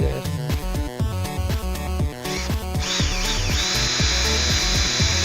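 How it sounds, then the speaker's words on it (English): A small drill driver repeatedly drives a screw, whirring at first and then settling into a loud, steady high whine as the screw bites in. A rhythmic background beat runs underneath the entire time. "I'm really liking this little drill driver"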